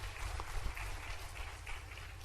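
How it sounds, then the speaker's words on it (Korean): Congregation applauding during a Sunday church service, a steady dense patter of many hands clapping at moderate, somewhat distant level for a couple of seconds. "박수"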